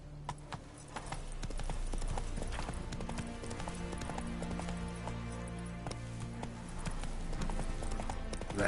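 Roach, a horse in The Witcher 3, trots with a steady clip-clop of hooves that stays close and even, set against a low musical background.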